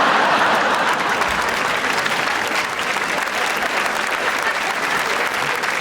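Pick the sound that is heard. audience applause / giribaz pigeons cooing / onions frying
audience applause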